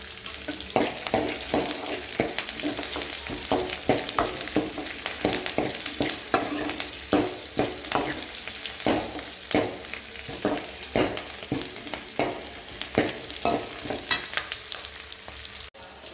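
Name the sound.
spices frying in hot oil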